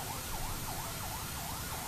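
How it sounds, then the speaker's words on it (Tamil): Several ambulances pass along a busy road, one siren sweeping up and down in a regular wail over a bed of traffic noise, fairly loud and unbroken, with no voices. "பத்தியா எத்தனை ஆம்புலன்ஸ் போகுது"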